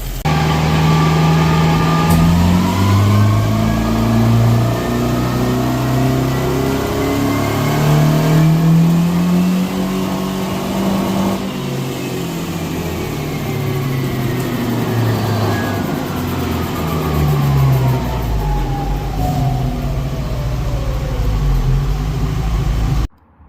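A fuel-injected Datsun roadster engine on 93 octane revs loudly and close, its pitch climbing and falling through several sweeping pulls before cutting off abruptly at the end.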